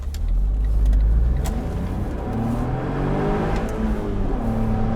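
A Smart Brabus Cabrio's engine revs up as it accelerates, the pitch climbing through gears, heard from inside with road rumble beneath.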